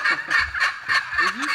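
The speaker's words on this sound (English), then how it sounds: "Here comes the turkeys." Several quick turkey gobbles rattle out in bursts, close and clear, with short pauses between calls.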